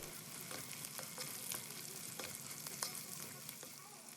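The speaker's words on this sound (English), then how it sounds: "Then heat up the fat to caramelize the veggies. Add the chopped onion, carrots," Chopped onion and carrots fry in hot fat for a lamb pilau, a steady close sizzle with crackling pops and occasional stirring scrapes throughout.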